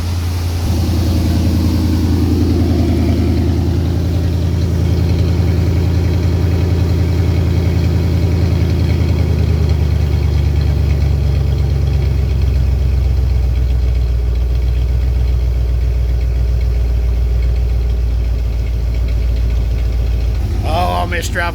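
An old OBS-era Ford F-150 pickup, revived after years of sitting, idles loudly and roughly, a steady low rumble holding throughout with someone talking over it.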